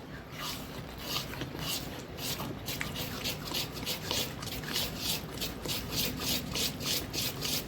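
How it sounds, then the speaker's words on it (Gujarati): Handvo batter of semolina, vegetables and sesame seeds being stirred steadily in one direction, a continuous close wet scraping and rubbing with a quick repeating rhythm. "હવે આપણે હાંડવાને એક જ ડાયરેક્શનમાં બરોબર હલાવી લઈશું"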